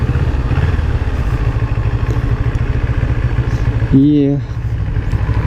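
Honda CB400 motorcycle engine running steadily and close, a continuous low throbbing rumble throughout, with a brief voice speaking over it near the end.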